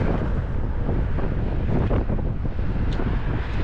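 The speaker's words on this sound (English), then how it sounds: "I'm going against the wind right now" Loud, constant wind roar buffets the microphone during a windy ride on a Hiboy S2 Max e-scooter in Las Vegas, heading into a headwind, with a dense rumble that covers everything else.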